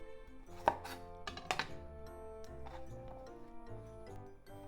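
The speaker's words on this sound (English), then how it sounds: "Cut the top off." A kitchen knife cuts the top off an eggplant on a cutting board, giving a few sharp close chops with a quiet background between them.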